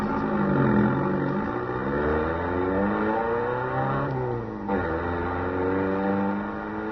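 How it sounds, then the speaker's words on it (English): A sports car engine fires up and revs hard, its pitch climbing and falling through rising sweeps as it accelerates away, loud and close throughout with no one talking. "All right, now get the car started."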